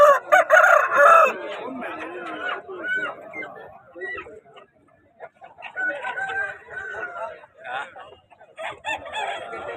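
Fighting roosters crowing and clucking at the Thursday Punganur rooster market, several nearby calls rising over lively chatter from people talking close by throughout.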